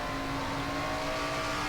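Stock cars in a NASCAR racing video game drone along at speed, a steady, dense engine whine holding an even pitch throughout with no voices over it.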